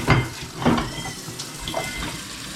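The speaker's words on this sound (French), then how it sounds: "Important de bien rincer comme il faut à l'eau chaude pour être certain qu'il n'y ait aucun dépôt dans les bouteilles." Hot tap water splashing and gurgling while rinsing wine bottles at a sink, with uneven sloshing bursts heard up close and no talking.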